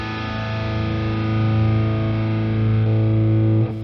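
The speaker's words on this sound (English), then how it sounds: "If I go into, for instance, a driven tone" A Boss Katana Artist Head amplifier plays a driven, distorted electric guitar tone. A sustained chord rings out loud and thick for several seconds, then cuts off abruptly, with no voices.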